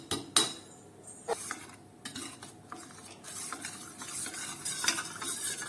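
A spoon stirs custard powder into milk, scraping and clinking against the container in irregular strokes. The sounds are quiet and close, with a few sharper taps and no talking.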